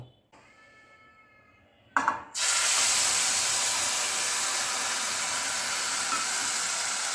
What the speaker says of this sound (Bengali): এবার আমি মশলাটা তেলে দিয়ে দেবো